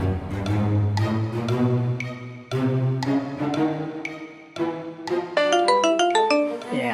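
A phone message notification tone rings out at midnight over a musical score, its bright, rising chime pattern standing out clearly near the end of the passage.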